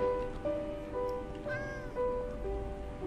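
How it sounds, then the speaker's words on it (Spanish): A cat in the video game Minecraft meows again and again, with several short, clear meows at a steady pace over a faint patter of rain in the background. "¡Ah! ¡Un gato! ¿Qué hace un gato aquí?"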